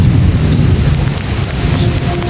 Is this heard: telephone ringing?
no